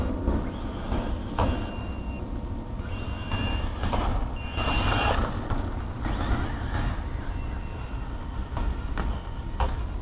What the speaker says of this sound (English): I guess that beeping means I need to quit